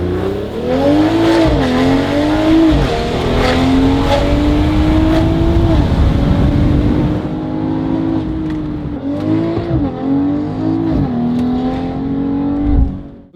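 A BMW G42 M240i with an upgraded Valvetronic Designs exhaust revs hard and close, rising and falling through repeated loud blips, then a sustained high rev and a final short burst.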